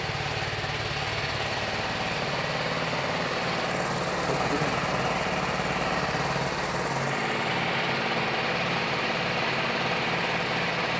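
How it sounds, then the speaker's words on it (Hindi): A sports naked motorbike engine idles at high cold-start revs, a steady, loud, continuous drone with a slight wavering, heard close up with no talking. "इस तरह का स्पोर्ट्स या स्पोर्ट्स नेकेट बाइक का शुरुआत में आइडलिंग आरपीएम ज़्यादा होता है"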